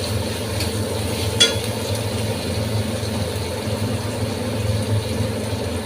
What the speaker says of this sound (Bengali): ভালোভাবে এটা আমি ভেজে দেবো।